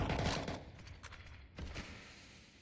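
Bursts of MAC-10 submachine gun fire in a Counter-Strike match, with a dense volley at the start and two shorter bursts later, under a steady layer of game ambience.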